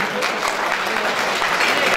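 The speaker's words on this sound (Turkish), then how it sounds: "Nidem'e ve Muziki ustamız Samet Kalkas'a bir alkış istiyorum." An audience applauds a musician at a live performance, a short burst of dense, steady hand clapping close by.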